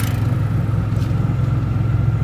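An auto rickshaw engine runs steadily while driving, making a constant low rumble and drone that stays close and fairly loud with no speech.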